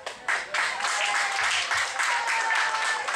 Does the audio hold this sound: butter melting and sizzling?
no